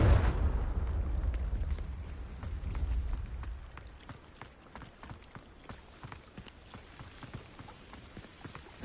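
A Confringo blasting spell cast in the Hogwarts Legacy video game opens with a loud, booming explosive burst, then fades into a long rumbling decay. Scattered sharp crackles and debris-like ticks follow at a lower level.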